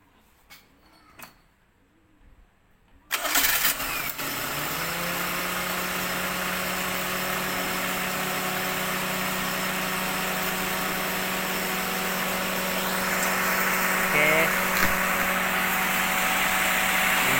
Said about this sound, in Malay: Engine stabil, kita coba tengok dia punya hasil.